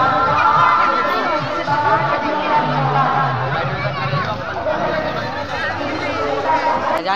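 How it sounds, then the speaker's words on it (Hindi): Dense crowd chatter at the Hasanpur Sun Temple fair beside a swing ride, many overlapping voices in a continuous close babble with no single speaker standing out. "जो काफ़ी संख्या में भीड़ है"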